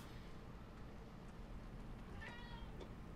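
A cat in a horror video game meows faintly, a couple of brief rising calls late in the clip over a steady low background hum.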